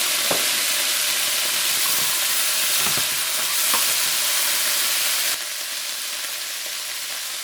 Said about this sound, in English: And we're gonna put some cherry cooking wine in it.